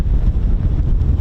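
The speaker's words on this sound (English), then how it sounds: "Goodness me, that's windy." Strong wind at an airfield buffeting the microphone, a loud, steady low rumble with gusty fluctuations and no voices, lasting just over a second.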